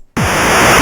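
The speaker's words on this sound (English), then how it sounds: "That's just like white noise." Harsh, loud broadband static bursts in abruptly after a brief silence and holds steady, a white-noise hiss from a Game Boy-style video game, with no voices.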